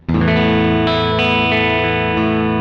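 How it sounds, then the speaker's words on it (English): Sustained chord from a PRS SE Hollowbody McCarty electric guitar through a slightly pushed amp, ringing out with a wide, washy reverb and echoing delay, thick layered tone with a few fresh strums across it. "I have a huge big reverb set up on the expression pedal of the HX effects"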